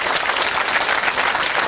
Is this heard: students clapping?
yes